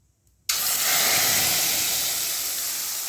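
Turmeric and dry ginger paste hits hot oil with browned cumin seeds, bursting into a loud, sudden sizzle that holds as a steady, dense hiss for several seconds.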